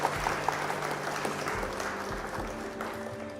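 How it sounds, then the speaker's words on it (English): Applause from a group of people, fairly faint and steady, a continuous patter of clapping with no talking over it. "Round of applause for you, my friend."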